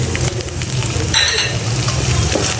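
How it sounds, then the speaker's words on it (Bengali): Ground spices with ginger and garlic sizzling in oil in a pan for a magur catfish curry, a steady crackling fry with scraping stirs and no voices. "এবার এগুলোকে আমি সুন্দর মতো একটু নাড়া দিয়ে দিচ্ছি।"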